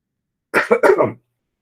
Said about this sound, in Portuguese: Perdão a tosse.